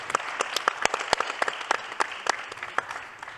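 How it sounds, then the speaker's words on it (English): An audience at a technology conference session applauds for the UAE, a steady run of crisp, overlapping claps that tapers slightly toward the end. "Let's have a quick round of applause and a big round of applause for the UAE"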